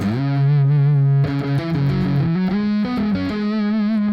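A loud, sustained distorted electric guitar riff from the solo of a song, a held low note and then a run of shifting notes climbing up, played alone with no talking.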